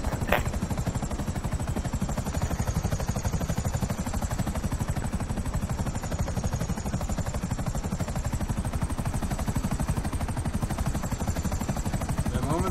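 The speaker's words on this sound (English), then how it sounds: "you can hear an airplane buzzing around, but you just can't see the fucking thing" Loud, steady buzzing engine drone of an aircraft passing overhead, with a fast rhythmic pulsing that stays close and unbroken the whole time.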